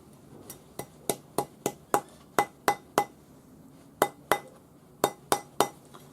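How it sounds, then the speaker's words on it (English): Sharp, regular taps of a rawhide hammer striking a metal bezel ring on a mandrel, about fifteen close knocks in quick runs with short pauses between. "Use your rawhide hammer."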